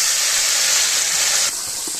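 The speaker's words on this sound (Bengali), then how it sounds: "এখানে শুটকি ভাজা হবে" Dried fish fries in hot oil with dried chillies and onion-garlic paste, giving a loud, dense, continuous sizzle that drops slightly in level near the end.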